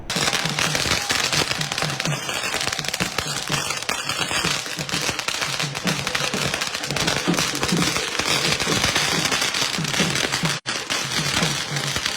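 Dense, continuous crackling of firecrackers bursting nonstop at a street celebration with drums in Nagpur, loud and close, with rapid overlapping pops and no pauses.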